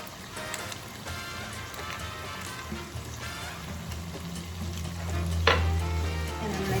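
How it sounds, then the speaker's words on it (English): A pot of rice seasoned with sazon and accent being stirred while it sizzles and fries, a continuous crackling hiss with soft scraping movements and one sharper clink near the end. "And I'm gonna give it a stir"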